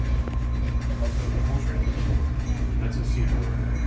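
A Conrail diesel locomotive rumbles past during a diesel day at the B&O Railroad Museum, a steady heavy low drone with a constant engine hum and faint voices underneath.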